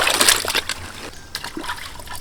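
Water runs and splashes while shrimp are washed, a short close burst of trickling and splattering that fades to a softer dribble.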